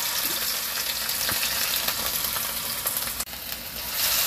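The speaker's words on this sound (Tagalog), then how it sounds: "dahil mainit na yung ating fry pan, ilalagay na natin yung ating garlic" Garlic sizzling in hot cooking oil in a fry pan while making Korean spicy stir-fried pork, a steady dense crackle with a few sharper pops and a brief dip near the end.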